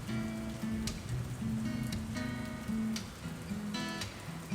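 Heavy summer rainstorm at a plant nursery in Florida, a steady dense hiss of rain on surfaces with scattered louder drops, continuous and close throughout.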